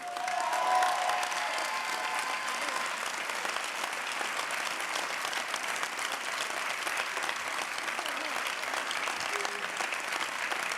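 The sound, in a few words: audience applause at a ceremony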